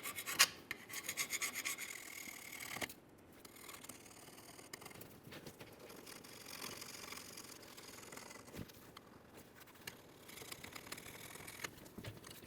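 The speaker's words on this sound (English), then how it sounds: "let's use a flat scraper, and we're going to remove as much debris as possible from this area" A flat scraper rasps debris off the differential housing of a 1998-2011 Ford Ranger, with steady close scratching strokes running throughout at low level.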